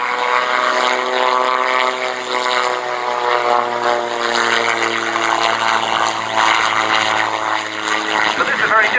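A modern German-designed Rotor Sports gyroplane flies at the Shuttleworth Edwardian Pageant airshow in 2017. Its propeller engine gives a loud, steady droning hum with a strong tonal whine that holds throughout, close and unbroken.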